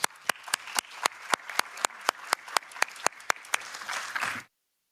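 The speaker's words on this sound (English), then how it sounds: "Please, big applause for all the presenters." An audience claps for the presenters at a talk on working time reduction and flexible working arrangements, steady close applause with a few louder individual claps, stopping abruptly at the end.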